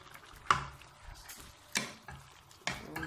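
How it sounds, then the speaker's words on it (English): Asaro, a Nigerian plantain porridge, being stirred in a pot: three distinct scraping strokes spaced about a second apart, close and fairly loud over a soft simmering background, with no talking. "You stir it again."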